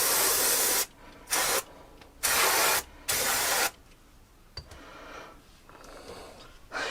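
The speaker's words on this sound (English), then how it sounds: "That's the release spray." Four bursts of aerosol mould-release spray hiss out in quick succession, each lasting about half a second, then fade into a quiet garage with faint rustling.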